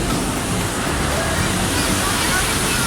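A waterfall near Annecy roars as steady, broadband rushing water, close and loud, with no pauses and no voices.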